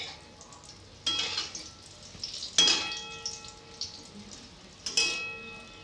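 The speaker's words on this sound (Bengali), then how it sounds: "তো বড়াগুলো আমি একটু উল্টে দিব।" Egg-potato fritters deep frying in white oil, with a steady low sizzle and three sharper bursts as pieces are turned with a utensil; no talking.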